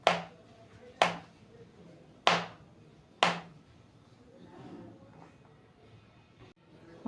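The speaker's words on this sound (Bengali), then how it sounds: "অন্যদিকে আমি কাজু আর কিশমিশ কুচিয়ে নেব।" A knife chops cashew nuts and raisins on a board, four sharp close taps about a second apart, followed by quieter handling and a final tap.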